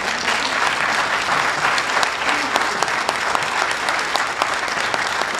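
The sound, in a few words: audience applause for the candidates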